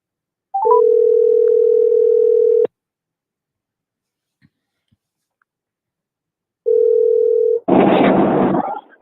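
Steady telephone dial tone on a radio call-in line, sounding alone for about two seconds, stopping, then returning briefly before a burst of noisy line static.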